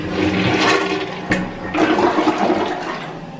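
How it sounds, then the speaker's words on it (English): A toilet in a rental unit is flushed nearby, a loud rushing swirl of water that drains and then gives way to quieter refilling. "What colour is that when I flush it?"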